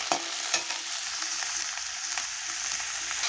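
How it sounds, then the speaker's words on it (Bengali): Potato and bitter gourd fry together in a pan with a steady, close sizzle, punctuated by a few sharp scraping clicks as they are stirred. "আলু আর উচ্ছে একসঙ্গে দিয়ে ভালো করে নেড়ে চেড়ে নেব।"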